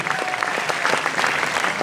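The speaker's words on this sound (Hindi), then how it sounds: "एक बार महिला शक्ति के लिए तालियां" Short burst of audience applause at a network marketing meeting, brisk and evenly sustained claps from a room of people, fairly close.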